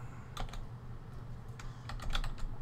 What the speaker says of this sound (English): if you type in